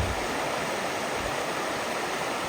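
A rain-swollen creek during a salmon run rushes in a dense, constant roar of flowing water, loud and close with no pauses.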